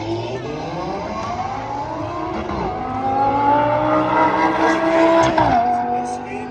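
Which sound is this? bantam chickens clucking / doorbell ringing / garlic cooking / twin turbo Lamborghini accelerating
twin turbo Lamborghini accelerating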